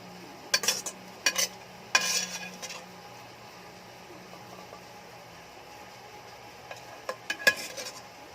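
Ingredients for paksiw with dalagang bukid fish go into a pan, giving a few sharp clinks and scrapes of utensils and cookware, quiet and intermittent against a faint background, with no one speaking.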